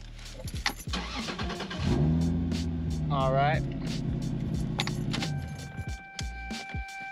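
Engine of a manual-swapped Toyota SC300 cranks and catches, then idles steadily at close range, with someone talking briefly before it starts and keys jingling nearby.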